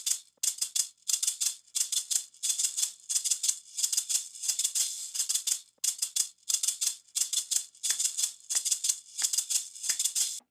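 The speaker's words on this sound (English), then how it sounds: "is the shaker. Sounds like this." A looped shaker rhythm part plays alone, crisp bright bursts in a steady, even pattern of pulses repeating for about ten seconds.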